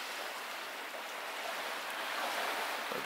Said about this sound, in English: it's still raining, the waves are just there.